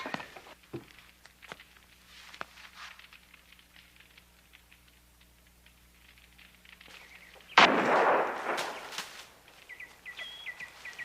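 A single sharp Brown Bess flintlock musket shot cracks out loud and near, with a burst of smoke-like noise rolling off after it, in a period drama scene set in a quiet room with faint background sounds before.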